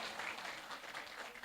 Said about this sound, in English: can we please give warm applause to Professor Nazife